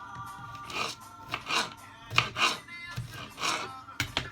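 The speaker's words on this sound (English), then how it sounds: "I can now cut up my onions" A knife chops onions small on a board in a home kitchen, making a run of light, uneven cutting and scraping strokes, close up and fairly quiet, with no speech over it.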